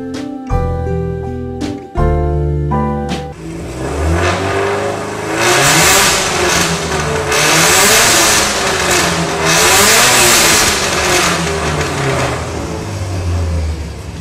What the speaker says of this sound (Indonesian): Kita coba dengar suaranya.